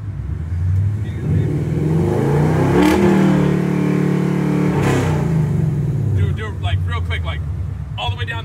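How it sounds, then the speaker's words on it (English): A parked car's engine revving up hard twice, rising and falling in pitch up close, with people talking over it near the end. "You can go and rev it."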